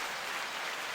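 A canned applause sound effect plays from an applause sign, a steady wash of clapping and cheering held at an even level for the whole second.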